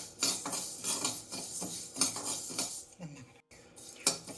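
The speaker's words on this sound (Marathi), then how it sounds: "त्याच्यानंतर हे तांदूळ भाजायला घेतलेत" Rice dry-roasts in a metal pan for metkut, stirred with a spoon that scrapes and clinks against the pan in quick irregular strokes, quiet and close, with a brief gap near the end.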